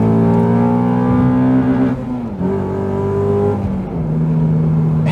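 A stock Honda Accord Euro R (CL7) revs loudly and close, its engine note climbing and dipping through a couple of rev swings for several seconds with no one talking.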